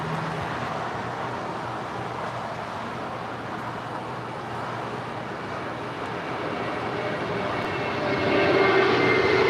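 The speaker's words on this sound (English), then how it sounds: "this A320 is departing to JFK" A JetBlue Airbus A320 jet departing, heard as a steady, broad engine roar that holds throughout and swells louder toward the end, with no voices over it.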